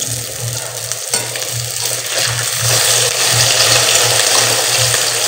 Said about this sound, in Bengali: টেস্টি টেস্টি করে বেগুনের বড়াগুলো ভেজে নিই।